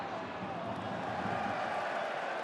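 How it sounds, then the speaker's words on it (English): Stadium crowd at an EFL Championship football match between Ipswich Town and West Bromwich Albion, a steady, dense roar of many voices with no breaks, filling the background throughout. "Crowd are getting nervous here."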